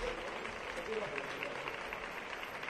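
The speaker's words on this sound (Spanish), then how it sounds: "toda la gente que todavía permanece en la Plaza de los Reyes desde que comenzó la concentración a las 7 está aplaudiendo" A protest gathering in Plaza de los Reyes, Ceuta, claps continuously at a distance, a faint, even patter of applause lying under a voice speaking over it.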